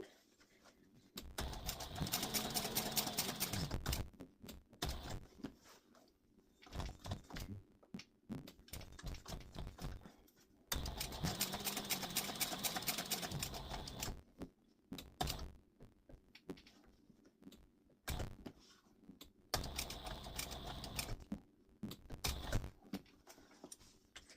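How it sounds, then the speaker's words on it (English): A sewing machine top stitches a satchel accent piece, running in three separate bursts of a few seconds each with a rapid steady needle rhythm, separated by quieter pauses. "We'll turn this up to a 5. And no back stitching. Top stitch this down."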